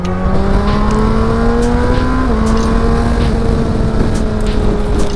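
A Suzuki GSX-S1000GT motorcycle accelerates on an expressway with a loud, steady engine drone whose pitch climbs, briefly dips at a gear change, then rises again under heavy wind rush.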